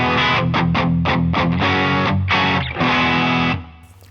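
Electric guitar played through a Brothers AM pedal on its distortion setting with gain near two o'clock, loud saturated chords struck in short stabs then held out, ringing before fading at the end.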